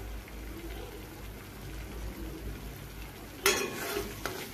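Slit green chillies dropped into a frying pan of simmering spiced food, a sudden sharp sizzle burst partway through rising over a steady low background bubble and stir.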